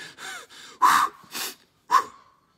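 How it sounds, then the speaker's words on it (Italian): Heavy panting and gasping breaths in a Star Wars trailer, several sharp loud inhales and exhales in an uneven rhythm, close and with no talk. "Chi è che ansima?"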